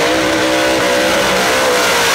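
A small-tire drag racing car roars past as it accelerates at a run-what-you-brung drag event, a loud, continuous, harsh engine blast filling the whole moment.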